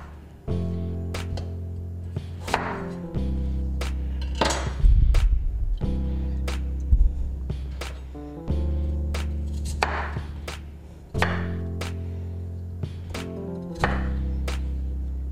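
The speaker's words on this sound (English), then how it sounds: "Now I cut the onions and the potatoes this way" A knife chopping onions and potatoes on a cutting board, with a steady run of sharp, close chops in several bursts separated by brief pauses.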